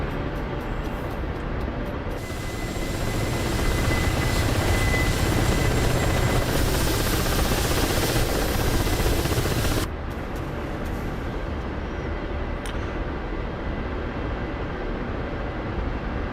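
The rotor of a Ka-50 Black Shark helicopter in a flight simulator game drones as a dense, continuous loud wash, swelling for several seconds in the middle before dropping back to a steady roar.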